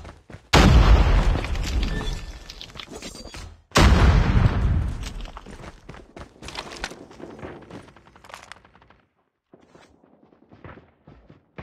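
Frag grenade explosions in the Call of Duty video game: two heavy, loud booms about three seconds apart, each decaying into rumble. Quieter clatter and footsteps follow, fading to near silence.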